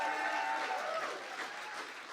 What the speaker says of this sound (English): please give a round of applause for Janae Harvey